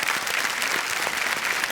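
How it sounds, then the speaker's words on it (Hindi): A studio audience on a TV quiz show applauds, a dense steady wash of clapping hands throughout the short burst. "तालियां बज जाए इनके लिए"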